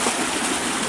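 High-pressure water gushes steadily from a solar-powered tube well pump driven by a 10 HP motor, a loud, close, continuous rushing with no talk.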